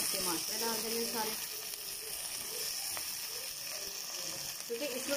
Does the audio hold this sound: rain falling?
no